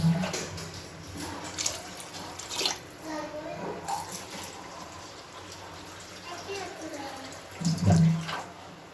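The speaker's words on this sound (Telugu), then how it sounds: "4 గ్లాసుల వాటర్ పోసుకుంటాను" Water pours steadily into a pressure cooker holding two glasses of rice for tomato rice, a continuous splashing rush that swells louder near the end, with faint voices in the background.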